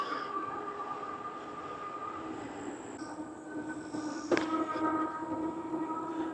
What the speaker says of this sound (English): I'm sure you can hear that little bit of whine from the motor.